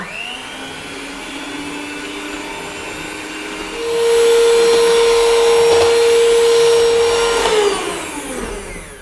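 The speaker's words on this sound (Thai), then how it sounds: "แล้วเราก็จะมา ตีวิปครีมกันค่ะ ใช้เป็นเครื่องผสมอาหารนะคะ" An electric food mixer whips cream for coconut ice cream, switching on partway through with a loud steady motor whine that holds for several seconds and then fades, with no talking.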